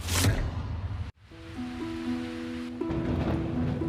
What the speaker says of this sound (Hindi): वो खिड़की से बाहर हो रही तेज बारिश को देख रही है।